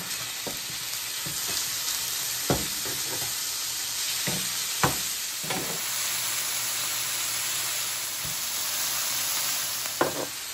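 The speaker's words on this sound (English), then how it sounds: "I'm just gonna flip the steak," A steak for Philly cheesesteak sizzles loudly and steadily in a hot pan, with a few sharp scrapes and knocks as the meat is flipped and pushed around. No one speaks.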